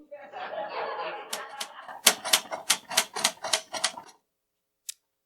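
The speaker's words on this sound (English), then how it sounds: "Not with the typewriter. No typewriters at the table." A typewriter clatters close by in a quick run of about ten sharp keystrokes, heard under and after a burst of audience laughter at a live comedy theatre show, with one last stray click after a pause.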